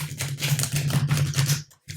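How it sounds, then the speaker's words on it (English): Deck of oracle cards being shuffled by hand at close range in a series of quick riffling, slapping bursts over two seconds, with a low steady hum underneath and a brief pause near the end. "One more shuffle."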